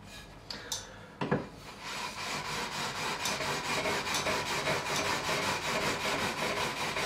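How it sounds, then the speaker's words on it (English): 400 grit sandpaper rubs back and forth across the levelled frets of an Ibanez Roadstar II RG200 guitar neck during a refret, a close, steady rasping rhythm after a few sharp knocks. "I'm just going to go back with the 400 grit."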